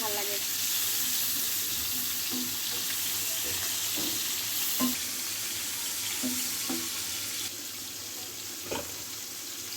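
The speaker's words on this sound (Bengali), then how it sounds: "চিংড়ি মাছটা ভালোভাবে ভেজে নিচ্ছি" Shrimp frying in a wok as part of a biryani recipe: a steady broadband sizzle with short stirring clicks and scrapes scattered throughout, close by and without talk.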